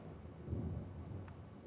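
A low, faint thunder rumble in the video game Destiny rolls briefly under a soft, rain-like hiss.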